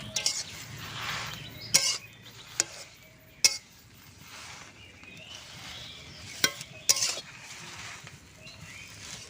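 Taro leaves being stirred in a pan while dry-cooking, with no oil or water: a soft rustling scrape rises and falls, broken by several sharp metallic clinks of the utensil against the pan.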